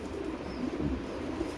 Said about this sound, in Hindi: ये जनाब 88 नंबर कबूतर है